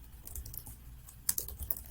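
Rapid clicks of a computer keyboard as someone types a search for copy paper, a quick run of light keystrokes with a few sharper, louder taps near the end, close and with no voices.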